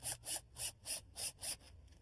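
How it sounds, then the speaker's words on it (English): A drill drives a self-tapping screw with a small drill-bit tip into an aluminum door hinge at the jamb, six rapid whirring pulses in about one and a half seconds, close but faint, with no talk. "and drill it in."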